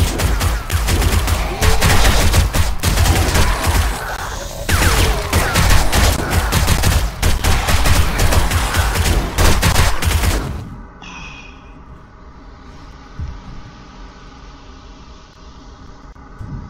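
Loud, dense bursts of automatic gunfire fill the opening ten seconds during a bank shootout in the survival game 7 Days to Die, then cut off abruptly, leaving a quiet ambient hum with a faint high tone.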